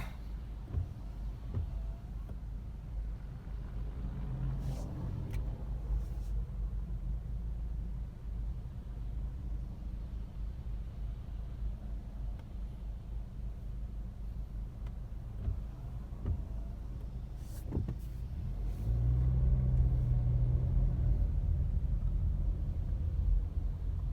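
Car traffic rolls along a snowy road in Big Bear, heard as a steady, muffled low rumble of engines and tyres from inside a vehicle, swelling slightly louder near the end, with no talking.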